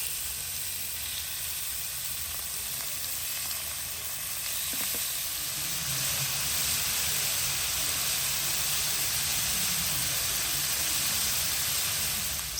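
Beef pieces fry in hot vegetable oil and butter in a pan, giving a steady, close sizzle with constant hiss and no break, growing slightly louder partway through.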